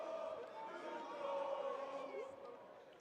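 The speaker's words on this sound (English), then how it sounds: "Crowd coming alive right here" Crowd at a Super Smash Bros. Ultimate tournament top 8, a distant roar of cheering and shouting that swells in the middle and then eases, with a commentator talking over it.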